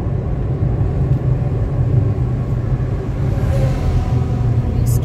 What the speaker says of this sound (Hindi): पेट्रोलिंग वाली गाड़ी जा रही है